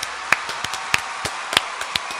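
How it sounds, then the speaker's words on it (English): Audience applause for a performer at a small show, sparse individual sharp claps scattered over a faint hiss of background clapping, fairly close and irregular. "We gave Shelby Hartwig a bigger applause than Enoch."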